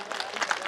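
An audience at a Minhaj ul Quran gathering gives a short, dense burst of applause, many hands clapping together in an even patter that lasts under a second.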